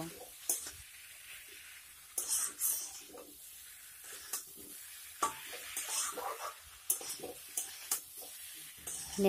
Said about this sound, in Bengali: এখন সবগুলি উপকরণ একসঙ্গে আবারও ভালোভাবে নেড়ে চেড়ে মিশিয়ে নেব